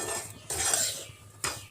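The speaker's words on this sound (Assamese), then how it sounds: "এইখিনি এতিয়া মই আকৌ অলপ সময় ভাজি ল'ম।" A spoon stirs semolina with raisins, cardamom powder and chopped nuts in a frying pan, giving scraping, rustling strokes in a few bursts, fairly close, with no talking.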